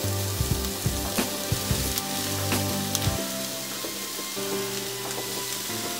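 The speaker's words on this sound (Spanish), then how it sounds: "Ya tenemos el aceite caliente, lo que vamos a hacer es añadir media cebolla picada." Chopped half onion hits hot oil in a pan and sizzles loudly and steadily, with a few clacks of a utensil stirring near the start and the frying continuing alone throughout.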